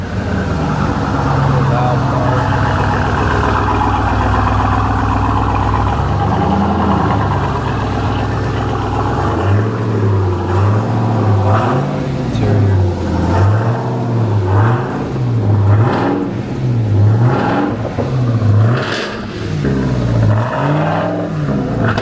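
A Jeep Trackhawk idles with a deep, steady rumble, then gets blipped repeatedly in a rhythmic series of short revs rising and falling, close and loud, with a voice talking over it.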